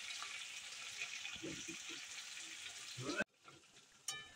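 Chicken for a Mughlai chicken handi sautéing with spices in a pan, a continuous close sizzle with a few stirring scrapes, cut off abruptly near the end before a brief clink.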